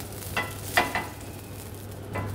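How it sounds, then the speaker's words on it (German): A little oil in a hot grill pan gives a faint, steady sizzle, broken by a few short scraping clinks from the cookware. The clinks come once early, twice around the middle and once more near the end. "Heiße Grillpfanne mit bisschen Öl."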